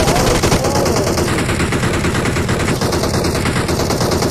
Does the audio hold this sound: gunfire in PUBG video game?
yes